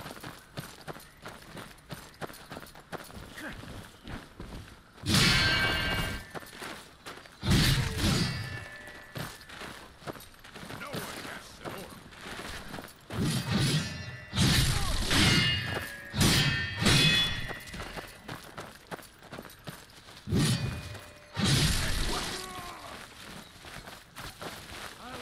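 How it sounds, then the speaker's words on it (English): A horse under attack by a spider in the video game Skyrim, with loud bursts of hoof thuds, clangs and combat impacts breaking up quieter stretches. "My horse is under attack from a spider."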